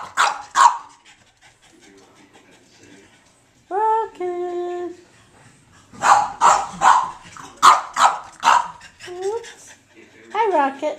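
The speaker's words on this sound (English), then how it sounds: "You gonna bark at me?" A pet dog barks in a quick run of sharp, close barks with some panting, while a person talks to it warmly before and around the barking.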